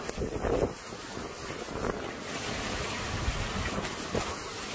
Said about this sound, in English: That wind is still furious.